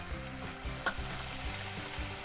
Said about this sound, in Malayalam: 2 ടേബിൾ സ്പൂൺ സോയ സോസ് ഒഴിച്ച് കൊടുക്കുക